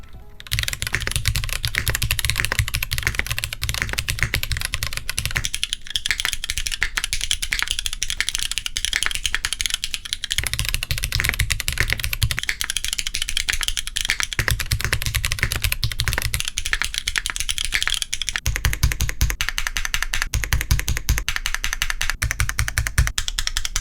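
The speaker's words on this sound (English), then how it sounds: "Here's a comparison of the Zoom Dyna to the control board Neo 65CU, both using Cherry MX Black on aluminum plates." Continuous fast typing on mechanical keyboards, a Zoom TKL Dyna and a Neo 65CU, both fitted with Cherry MX Black switches on aluminum plates, produces dense, even clacking heard close up and alone for the whole stretch.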